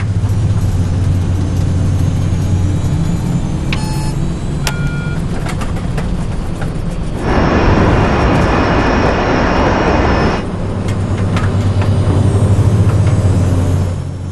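Jet engines of a West Caribbean Airways airliner in flight roar as a loud continuous drone, with a band of hiss that rises and drops midway and a few faint tonal beeps, with no voices.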